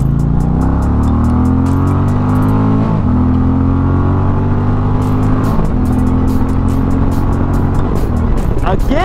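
A 2024 Indian Challenger Darkhorse motorcycle revs hard through several gear changes, its engine note rising in pitch then dropping at each shift, loud and close, with wind rumble throughout.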